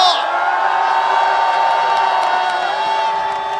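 At a political rally, a large crowd cheers and whoops in a loud, sustained roar with high shouts over it, steady for several seconds before easing slightly at the end.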